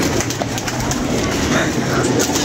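Pigeons coo in a loud, dense outdoor scene with steady background noise and a voice talking over it.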